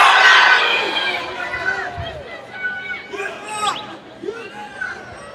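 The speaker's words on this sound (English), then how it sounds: "I want you to yell their name out as loud as you can so that your parents can hear that" A graduation crowd at a school ceremony yelling names as loudly as they can, a big burst of massed shouting that fades into scattered cheers and individual calls.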